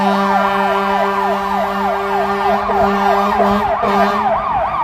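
A full fire engine's wailing siren sweeps up and down rapidly and continuously on a Chicago street, loud and nearby, with a steady horn-like tone underneath and street traffic noise around it.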